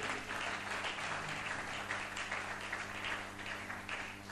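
A church congregation applauds during a sermon, steady, dense clapping from many hands sustained for several seconds, fairly distant and soft, with no talk over it.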